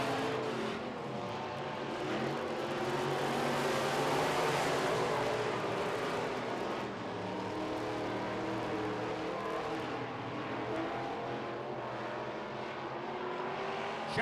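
Midwest Modified race cars roar around the oval at speed, a dense, steady engine drone with the pack passing close and loud throughout, no voices over it.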